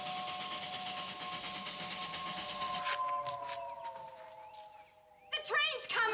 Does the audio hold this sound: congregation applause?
no